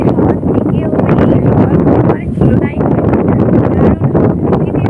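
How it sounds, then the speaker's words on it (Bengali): Heavy wind on a rooftop buffets the microphone with a loud, continuous rumble while a person talks underneath it. "কি সুন্দর হাওয়া দিচ্ছে না কি বলবো তোমাদেরকে ঠান্ডা ঠান্ডা একেবারে হাওয়া"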